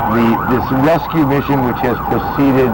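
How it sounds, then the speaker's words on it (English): Emergency sirens wail across New York City streets the day after the September 11 attacks, a rising and falling siren tone running under a man's steady news-report speech. "You can hear the sirens still in the background."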